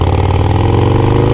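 A Harley-Davidson Sportster Iron 883 with a stage 1 upgrade gives a loud, close, deep, throbbing exhaust note in a short burst, running steadily without voices.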